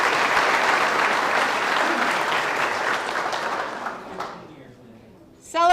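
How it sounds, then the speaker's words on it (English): A room full of people at a county board meeting claps for a staff member's fifteen years of service, a dense round of applause that fades out over several seconds, with a voice starting up at the end. "Let's have a round of applause for 15 years of service."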